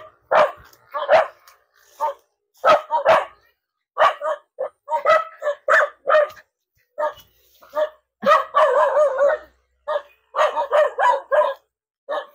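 Several dogs bark in sharp, repeated bursts nearby, some yipping in quick volleys with short silent gaps between outbursts.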